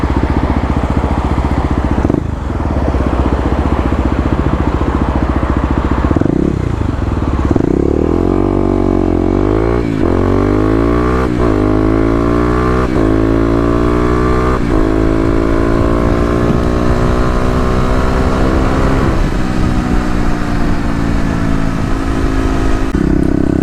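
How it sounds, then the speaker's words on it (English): Kawasaki KLX250 motorcycle fitted with a 13-tooth sprocket, revving hard and accelerating through several gears, the loud engine note climbing in pitch repeatedly with brief drops at each shift. "We'll get an acceleration run for you guys."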